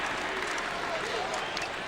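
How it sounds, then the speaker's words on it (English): A basketball arena crowd roars at a Mavericks vs Celtics game after a player is fouled in traffic, a dense, steady wall of cheering and clapping filling the whole stretch with no breaks. "And the crowd goes wild"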